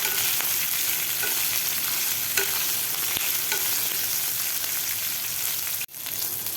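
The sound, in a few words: green chillies frying in spice masala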